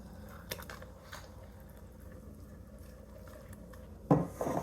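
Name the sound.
mixing keto flour batter by hand in bowl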